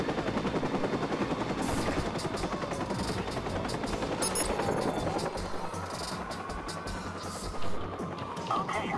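Rapid bursts of gunfire rattle over the constant thumping drone of a helicopter in the video game Watch Dogs, loud and dense throughout, with occasional sharper impacts.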